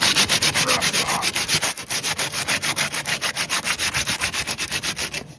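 Steady, rhythmic back-and-forth rasping of coarse 80-grit sandpaper rubbed by hand over rusty car body metal on a BMW 318, close and loud, about five strokes per second.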